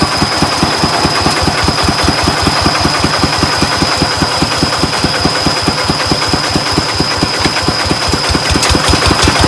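A car engine idles nearby with a loud, steady rhythmic chugging and a thin high whine above it, unbroken for the whole stretch in darkness, with no voices.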